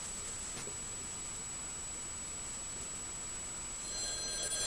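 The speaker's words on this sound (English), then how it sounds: "Phone ringing." A telephone rings inside The X-Files Game as a thin, steady electronic tone over a faint hiss, unbroken throughout, with a brief brighter burst near the end.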